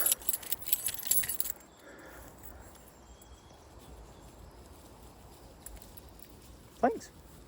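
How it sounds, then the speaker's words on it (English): Keys for a Land Rover Defender jangle and clink in a brief loud burst at the start, then faint rustling gives way to quiet room noise before one short metallic clink near the end. "There's no way a set of defender keys are able to do this."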